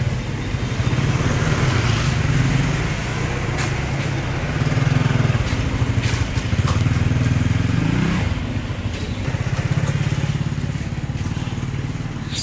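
Motorbikes and other vehicles stream past on a busy Vietnamese street in the evening, a loud steady engine drone with rising and falling buzzes as bikes pass close by.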